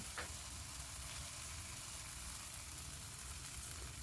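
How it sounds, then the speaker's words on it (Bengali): Spices sauté in a pan over a medium gas flame for a pumpkin and Gobindobhog rice dish, giving a steady, even sizzle throughout with one brief stirring scrape near the start and no voices. "তো এবার সব মশলাগুলোকে আমি ভালো করে কষিয়ে নেব গ্যাসের ফ্লেম মিডিয়ামে করে"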